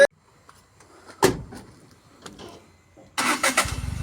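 A goods truck engine cranks and catches at about three seconds, then settles into a loud, chugging idle, after a sharp knock and faint background clatter.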